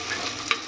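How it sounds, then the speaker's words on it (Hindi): Onions fry in a clay pot, giving a steady close hiss and sizzle with a brief louder crackle near the middle. "हांडी में रख लिया मैंने प्याज फ्राई करने के लिए"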